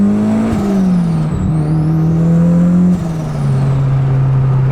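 A turbocharged RX-8 with a swapped K24 engine spools up while driving, with a loud, steady engine drone and a rising whine that climbs and dips with gear changes.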